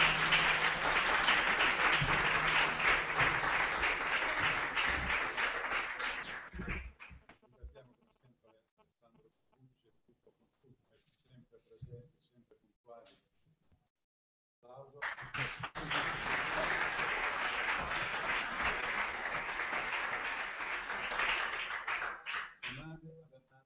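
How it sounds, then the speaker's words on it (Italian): Sustained audience applause at a live presentation event, dense clapping for several seconds, then a quieter gap with a few scattered sounds, before a second loud, long round of clapping. "Applauso."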